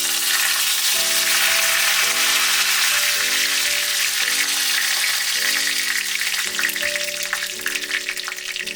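Curry leaves crackle and sizzle in hot oil already popping with mustard seeds and fenugreek for a green pepper gravy, a continuous bright frying hiss with steady background music.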